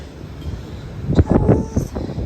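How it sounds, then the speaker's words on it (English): Strong wind buffets the microphone on the open deck of a cruise ship at sea, giving a steady close rumble with gusty surges through the middle, and no talking. "Oh god, it is very windy."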